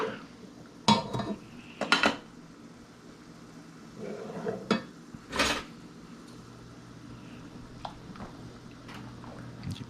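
Pasta stirred in a metal pot over a warm stove, with sharp clanks and scrapes of a utensil against the pot in bursts, between quieter stretches of soft kitchen background.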